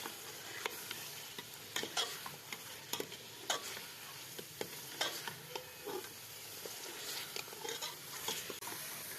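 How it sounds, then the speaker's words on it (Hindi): Chicken feet being stirred and fried in masala in a pan, a soft continuous sizzle broken by repeated scraping and tapping of a spoon against the pan, fairly quiet and close, with no voices. "पंजों को सबसे पहले भूनेंगे हम अच्छी तरह से, तकरीबन 2 से 3 मिनट अच्छी तरह से इसकी मसालों में भुनाई करेंगे हम।"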